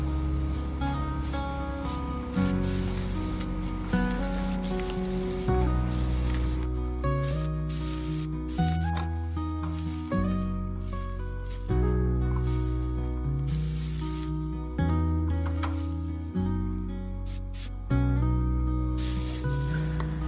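Fried glass noodles with vegetables sizzle in a pan as they are stirred, a steady frying hiss running under loud background music throughout.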